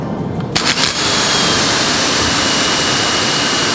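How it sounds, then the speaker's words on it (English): Ryobi 1600psi electric pressure washer spraying through a 50-foot hose, aftermarket gun and 15-degree nozzle, a loud, steady roaring hiss that starts abruptly after a few brief bursts and holds constant, close and alone. "here we are testing the 50-foot hose with the aftermarket gun and the 15-degree nozzle"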